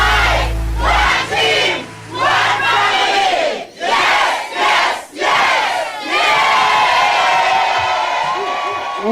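An audience at the PRIFE East Africa Westlands office launch cheers and shouts loudly in surging waves, with whoops and claps swelling, dipping briefly, then holding strong.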